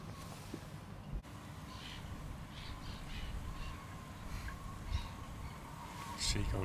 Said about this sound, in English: Seagulls everywhere